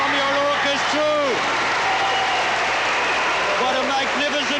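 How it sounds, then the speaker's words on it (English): Tennis crowd in 1980 rising to a standing ovation after a hard-fought match, steady loud applause and cheering throughout, with a commentator's voice speaking over it. "A standing ovation for two great players."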